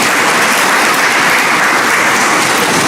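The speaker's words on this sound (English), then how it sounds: "Can we give Brother Ishmael a well-deserved round of applause?" Audience applause fills the hall at a religious broadcast lecture, a dense, steady wash of clapping that stays loud and even throughout, with no voices over it.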